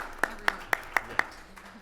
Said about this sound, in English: Everyone will always clap for let's get rid of a tax.